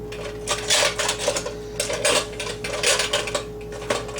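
Metallic clinks and scraping of the small metal pot lid of a Campingaz Twister 270 HPZ camping stove cookset being unscrewed and shifted, several bursts of rattling close by, with a steady hum underneath.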